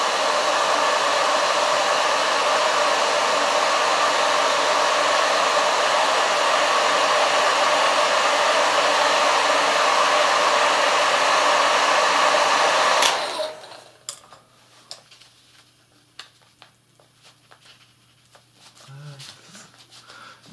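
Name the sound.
hair dryer blowing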